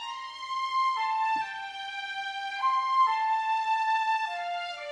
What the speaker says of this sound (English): just the violins and the flute this time without vocal doubling in unison or anything